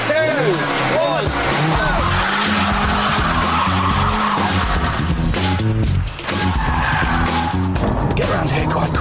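A petrol Mini Cooper is driven fast on a course and pulled into a handbrake turn: a loud, close engine roars and shifts pitch while the tyres squeal and skid continuously.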